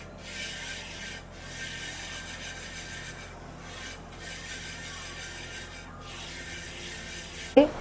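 A hand spreading and rubbing across a clay griddle, a continuous dry scraping rub with short pauses, close and moderately quiet.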